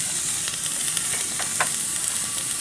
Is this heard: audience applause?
no